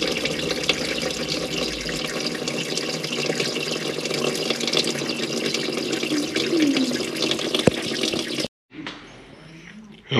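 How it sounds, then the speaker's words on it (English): Coolant drains steadily from the radiator petcock of a 1991 Chevrolet Corvette ZR-1 with the LT5 5.7 engine, giving a continuous splashing, faucet-like pour for about eight seconds before it cuts off and a quieter trickle follows. "you just turn it counterclockwise. And we'll get that fluid draining."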